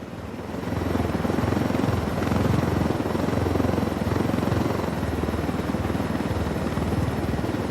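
A helicopter flies in the Ghost Recon Wildlands video game, a loud, continuous rotor thrum that swells slightly and holds steady for several seconds, with no voices.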